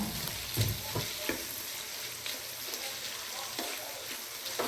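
Beef with bouillon cubes sizzles in a hot pan while being stirred, a steady frying hiss broken by soft scraping strokes of the spoon, close and unaccompanied by speech.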